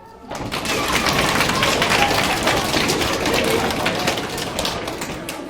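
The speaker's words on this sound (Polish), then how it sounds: "i klaszczą i tupią." Schoolchildren in a large group clap and stomp their feet together at a school Santa Claus event, a dense, loud, sustained patter of hands and feet filling the hall from start to finish.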